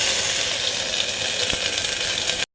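Meat frying with spices in a pan gives a loud, continuous close-up sizzle with a faint stirring scrape partway through, then cuts off abruptly.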